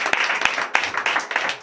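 A church congregation at a Sunday service in Comè, Benin claps in acclamation, with uneven, fairly close claps in a short, lively burst.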